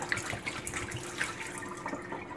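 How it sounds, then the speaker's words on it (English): Dirty water from a guinea pig's cage or water bowl is poured out into a sink, a steady close splashing trickle with small drips and no talking. "just dump out all the dirty water."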